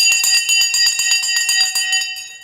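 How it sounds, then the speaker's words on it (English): A small bell is struck repeatedly in a quick, fairly regular series of bright metallic dings, loud and close, with ringing overtones that linger and fade at the end. "Let me ring the bell."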